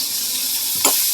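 Mango pieces tipped into hot oil seasoned with turmeric and asafoetida, giving a brief soft splash and sizzle over a steady frying hiss, close and fairly loud.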